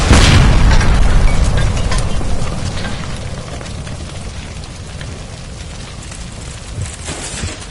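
A gas line blows up inside a house in L.A. Noire, a loud blast that opens the clip, then a long roaring, crackling burn of fire that slowly fades.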